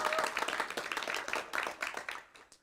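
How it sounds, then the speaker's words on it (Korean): Brief round of clapping from a small audience at a final presentation ceremony for an AI developer training course, with quick scattered claps that thin out and fade within about three seconds. "박수 한번 보내주시죠"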